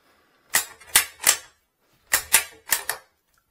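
Rifle bolt action worked in two quick sets of three crisp metallic clacks, close and dry in a quiet room, with no talk.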